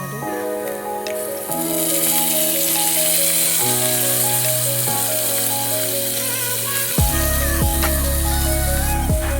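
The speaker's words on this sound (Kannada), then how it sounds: "ನಾನು ಕಾಯಿ ಟೊಮಟ 4 ಹಸಿಮೆಣಸಿನ್ಕಾಯಿ ಹಾಕೊಂಡಿದ್ದೀನಿ. ಅದಕ್ಕೆ ಸ್ವಲ್ಪ ಎಣ್ಣೆ ಹಾಕಿ ಹುರ್ಕೋಬೇಕು." Green tomatoes and green chillies frying in oil in a pan, a loud, steady sizzle, with strong tonal hum lines running under it and shifting in pitch, no talking.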